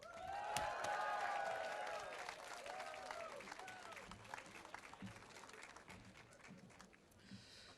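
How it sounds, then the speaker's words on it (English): Applause from a crowd at a human rights and pro-Israel rally, loud at first with dense clapping and cheering, then thinning and fading over several seconds. "So, ladies and gentlemen, a big round of applause, please, for Dr. Gregory Lafitte."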